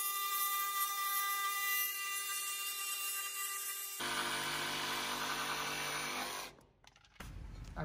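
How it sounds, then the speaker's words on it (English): A jigsaw on a pontoon boat corner cap starts with a thin high-pitched motor whine, then bites in with a few seconds of rough, harsher cutting noise before cutting off abruptly; quiet overall. "I'm going to grab my jigsaw and I'm just going to cut right on my black line that I've put in here."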